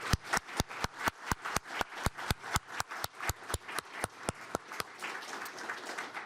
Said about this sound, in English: Let's give one final round of applause to all of our winners